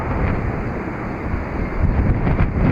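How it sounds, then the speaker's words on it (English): Strong wind roars and buffets the microphone steadily throughout at Kirkmichael on the Isle of Man, with gusts swelling louder toward the end. "Very windy day here compared to yesterday."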